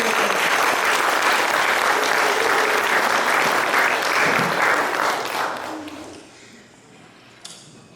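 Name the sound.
audience applause at reunion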